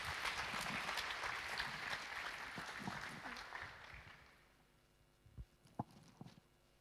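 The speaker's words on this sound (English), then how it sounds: "Give a huge round of applause for Sravya Maulika." A crowd at a youth festival gives a round of applause, loud dense clapping that fades out over several seconds, followed by a few scattered thumps and near silence.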